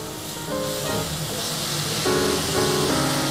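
Vegetables sautéing in a hot pan for an Italian dish, a steady broadband hiss of sizzling that swells slightly partway through, with faint tonal background sounds layered underneath and no talking.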